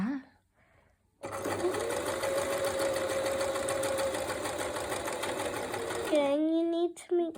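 Hobbycraft sewing machine stitching steadily for about five seconds, a loud continuous whirring hum with a rapid mechanical rhythm, close by, followed by brief talk.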